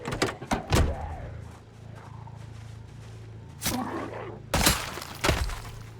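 Several sharp metallic bangs and clunks as a car door is forced in a zombie survival game, irregular hits spaced across the span with quieter rumbling between, close and loud.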